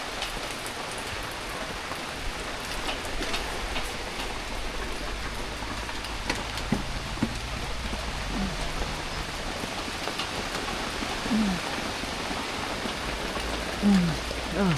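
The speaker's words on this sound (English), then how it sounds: "Heavy rain, heavy rain." Heavy rain pours steadily and loudly onto surfaces outdoors near a koi pond and canopy, a dense continuous wash broken by a few scattered drips and thuds, with a faint voice briefly under it.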